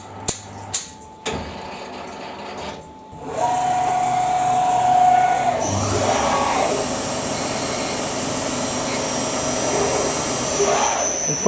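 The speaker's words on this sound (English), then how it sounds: "Now we're going to face the internal ID with a internal facing tool." On a CNC lathe, an internal facing tool faces the bore of a part, giving a steady hissing machining whine after a few short knocks and a rising spindle tone. The sound runs continuous and fairly loud, up close, with no talk.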